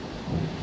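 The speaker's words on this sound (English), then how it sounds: "Hear that thunder" Low distant thunder rumbles briefly outdoors during a car rear differential and transfer case oil change, a dull steady roll with no speech.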